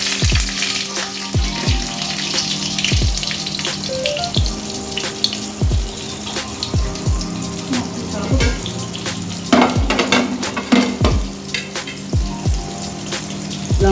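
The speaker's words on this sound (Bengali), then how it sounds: "তো লঙ্কাগুলো আমি ভেজে নিচ্ছি।" Dried chillies fry in a little mustard oil in a wok, a loud close crackle with a steady run of sharp popping spits over a bubbling hiss.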